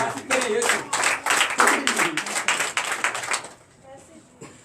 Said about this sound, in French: Donnez l'acclamation à tous ces